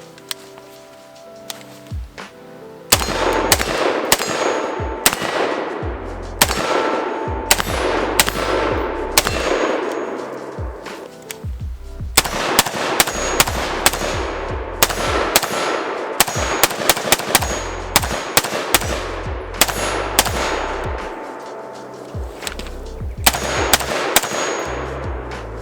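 IWI Galil ACE 5.56 pistol fired outdoors, loud sharp reports in quick bursts and single shots with short pauses between strings, close and dominant throughout.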